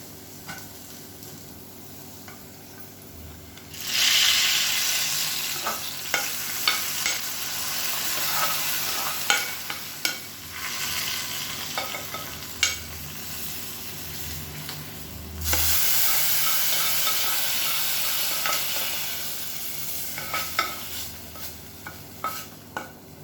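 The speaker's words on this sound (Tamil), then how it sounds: "இதை எடுத்து அப்படியே நம்ம மீன் குழம்புல கொட்டிடலாம்" Sautéed onions tipped into simmering fish curry, a loud burst of frying hiss with repeated clinks and scrapes of stirring, the sizzle swelling twice as the pan is worked.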